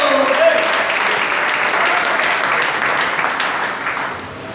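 Church congregation applauding as an offering of praise, a steady broad wash of clapping from many hands that fills the room and tapers slightly at the end, with no talk over it.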